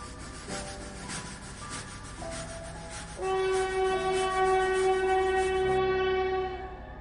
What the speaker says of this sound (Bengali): ট্রেন এক মুহূর্ত দাঁড়িয়ে ইঞ্জিনে থক থক শব্দ তুলে চলে গেল।